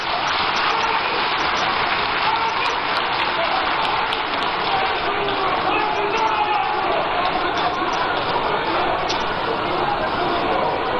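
Sustained applause from a crowd at a political rally for the NDC General Secretary, a dense, even wash of clapping with no break, crowd chatter mixed in.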